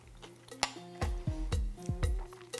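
A spoon clinks and scrapes against a bowl of cold Bulgarian cucumber soup topped with walnuts, several sharp, close metallic taps spread unevenly over a couple of seconds with no talking.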